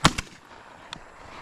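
Two sharp, close shotgun reports fire in quick succession during an Alabama dove hunt, followed by a fainter distant crack in an open field.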